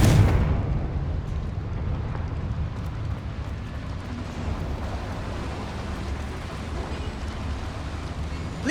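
Bombarda and Confringo spell blasts in the Hogwarts Legacy video game, a loud rumbling explosion at the start whose dense roar and crackle then sustain at steady volume for several seconds.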